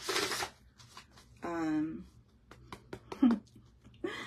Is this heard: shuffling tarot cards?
yes